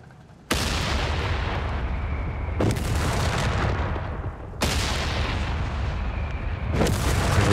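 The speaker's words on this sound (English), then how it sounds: "The barrage." Artillery barrage in Company of Heroes 3 firing at a Vickers machine gun at max range: three heavy broadband blasts arriving in a slow, steady rhythm, each with a long rumbling decay, loud and close with no voices.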